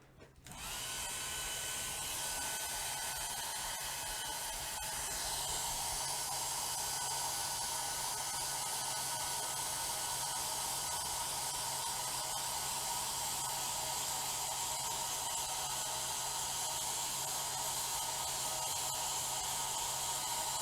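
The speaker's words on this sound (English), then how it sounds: "Let's hit it with the hairdryer." Steady, loud hairdryer blowing continuously on a motherboard during an LN2-cooled overclocking session of a 4790K, a constant whooshing airflow with a faint voice early on.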